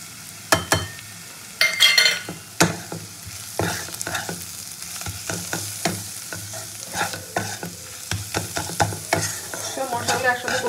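Cumin, coriander, garam masala and chilli powders fry together in a pan for fish chops, loud sizzling broken by a rapid series of sharp spatula scrapes and clanks against the metal, no speech.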